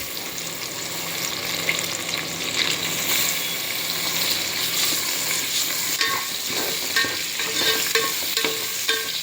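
Prawns frying and being stirred in a pan with garlic and ginger for prawn biryani, a loud continuous sizzle with scraping stirs throughout, close up and without talking.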